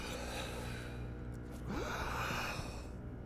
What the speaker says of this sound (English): why are you breathing like this?